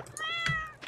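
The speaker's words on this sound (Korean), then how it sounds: "야옹." A cat meows once inside the farming game Stardew Valley, a clear harmonic cry lasting about a second, close and alone with no talk over it.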